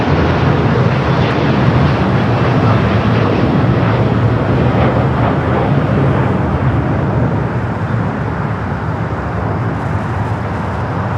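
Large jet aircraft at LAX airport, a loud continuous broadband engine roar that stays steady and close for the whole stretch, alone without talk.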